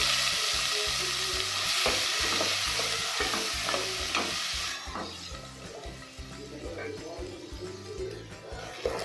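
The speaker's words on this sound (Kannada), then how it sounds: "ಇದರಲ್ಲಿ ಸಣ್ಣ ಕಟ್ ಮಾಡಿಕೊಂಡು 2 ಬಿಗ್ ಸೈಜು ಆನಿಯನ್ ಹಾಕ್ಕೊಂಡು ಚೆನ್ನಾಗಿ ಫ್ರೈ ಮಾಡ್ಕೋಬೇಕು." Two large chopped onions with cloves, cardamom, cumin and fennel sizzle steadily in a frying pan, a spoon scraping and stirring through them in an uneven rhythm, close and fairly loud, with the sizzle easing slightly partway through.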